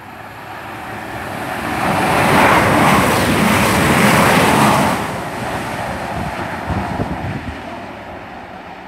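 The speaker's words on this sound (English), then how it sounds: "coming through now is a cross-country service to Bournemouth from" A four-carriage cross-country passenger train bound for Bournemouth rushes through Beaulieu Road station. Its roar swells loud over a few seconds and then fades, with wind buffeting the microphone and no voices.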